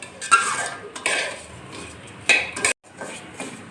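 Gobindobhog rice being stirred in a pan while cooking, with scraping and clinking of a utensil against metal in irregular bursts and a brief gap of silence, fairly faint and close, with no talking.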